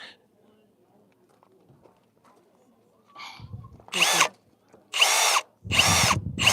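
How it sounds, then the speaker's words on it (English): A power drill pre-drilling a hole in wood during a building class, sounding in three loud, close whirring bursts in the second half after quiet room murmur. "So let's take our drill."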